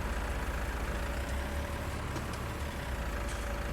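A tractor engine in Farming Simulator 19 on an alpine farm drones steadily as it drives, a continuous low rumble with a faint whine, heard alone.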